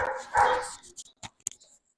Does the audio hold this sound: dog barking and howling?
yes